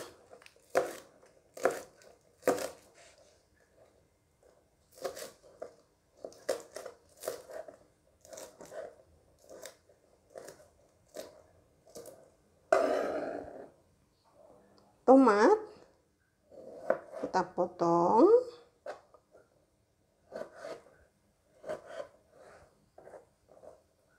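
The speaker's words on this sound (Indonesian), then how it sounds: "kita rajang bawang pre tidak usah terlalu kecil kita rajang besar-besar saja ya" Leeks chopped into large pieces on a cutting board while cooking a tempeh dish: a string of sharp, close knife taps in uneven rhythm, paused by a stretch where someone talks before the chopping resumes.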